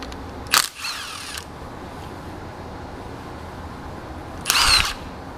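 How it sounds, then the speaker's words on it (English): Two short whirring bursts from a power tool pulling bolts off an engine cover during an engine swap on a 2013 to 2019 BRZ, FR-S or 86, separated by several seconds of quiet shop background. "I'm gonna go ahead, start pulling these bolts."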